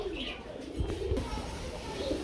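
Soft, low pigeon cooing repeats in short murmurs at a pigeon sale, against a steady background hum, with faint chirps higher up.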